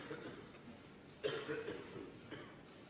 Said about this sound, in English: someone just coughed there as he was down on the shot